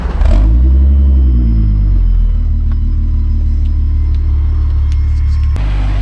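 A VR6 turbo wagon's engine, loud and close, with a deep rumble that rises in a brief rev at the start and then settles into a steady, heavy idle-like drone, ending in a sudden shift.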